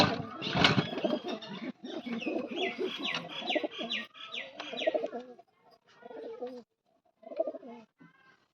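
Domestic pigeons at a home loft coo in a soft, repeated rhythm, with brief chirps and a little wing flapping, growing sparser and fading into short bursts with pauses toward the end.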